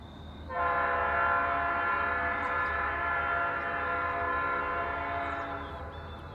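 A freight train's air horn blasts in one long, loud sustained chord with rich harmonics, while GE locomotives labor hard pulling uphill on a curve with heavy rail, their deep engine rumble continuing underneath and fading slightly at the end.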